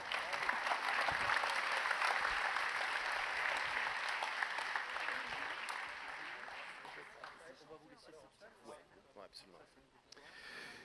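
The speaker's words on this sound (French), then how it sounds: "Attention, on fait le salut final sous vos applaudissements, mesdames, messieurs." An audience at a New Year's greetings ceremony applauds the final bow. Loud, full applause sustains for several seconds, then gradually thins and fades, with voices emerging toward the end.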